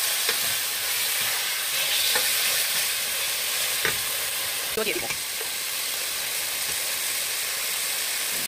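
Meat sizzles in a pan with softened, melted onions for a vegetable curry. A steady, hissing fry runs throughout, broken by occasional scraping stirs and clinks, with no voices.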